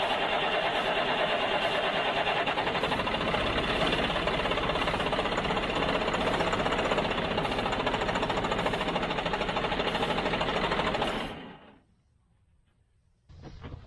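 A skidder's diesel engine running steadily and loudly with a rhythmic knocking clatter after its injector pump was retightened, then cutting out abruptly near the end before a brief restart.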